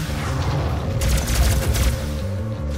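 Explosions and weapon fire in the game Doom, a rapid burst of heavy booming blasts and crackling shots layered over a steady rhythmic in-game music bed.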